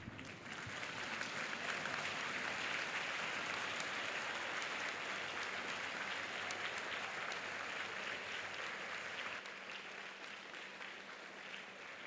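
A large audience gives a standing ovation for panelists and keynote speakers at a knowledge and talent acquisition summit, steady dense clapping that holds evenly for about nine seconds before thinning slightly toward the end.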